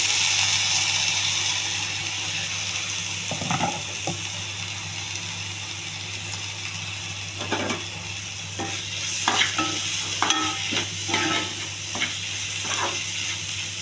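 Boiled raw banana pieces with chopped tomato fry in a pan, a steady loud sizzle running throughout while a spoon scrapes and stirs in clustered bursts, growing busier toward the end, up close with no voices.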